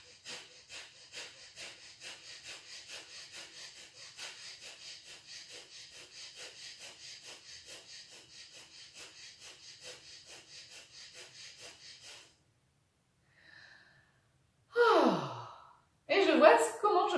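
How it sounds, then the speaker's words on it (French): Kapalabhati yoga breathing comes as a long run of quick, rhythmic forceful exhalations through the nose, steady and fairly soft, followed by a pause and then a couple of louder, deeper breaths. "On ferme les yeux, on prend une inspiration."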